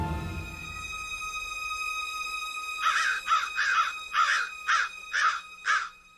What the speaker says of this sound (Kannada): ಏನಿದೆ ಮನೆ ಹತ್ರ ಕಾಗೆಗಳು ಅರ್ಚ್ಕೊಳ್ತಾ ಇದಾವೆ?